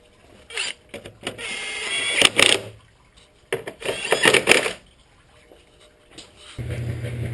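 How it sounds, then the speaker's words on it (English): Work on an Infiniti G37 during a coolant service: bursts of ratcheting and whirring from a tool driving a bolt down, two main runs separated by pauses, close and fairly loud. "Just gotta bolt that down."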